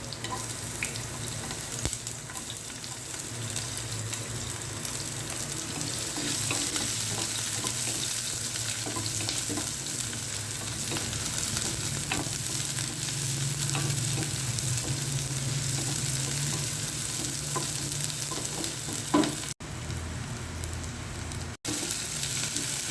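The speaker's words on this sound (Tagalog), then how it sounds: "Gisa na natin guys yung ating bawang. And then sibuyas guys." Garlic and onion sauté in a pan for beef asado, a loud, steady close sizzle that runs without pause, with scattered scraping stirs and occasional light clinks of the utensil.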